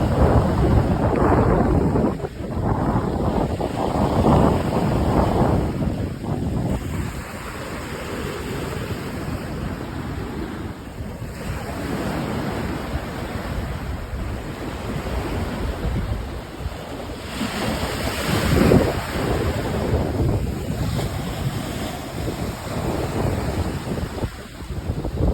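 Strong ocean waves pound a resort beach in a continuous loud roar of surf, with heavy wind buffeting the microphone and surges swelling and easing throughout, no voices heard.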